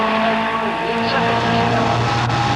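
Touring race cars from the 1989 British Touring Car Championship, including a BMW, accelerating hard out of a chicane, a loud continuous engine roar with tyre squeal, close and dominant under an excited commentator.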